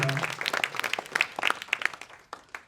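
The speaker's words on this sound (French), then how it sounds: "applaudissements, allez-y, ça se fait aussi" Sparse applause from a small audience at an evening launch gathering, a handful of distinct claps starting quickly and thinning out toward the end, fairly close and moderate in level.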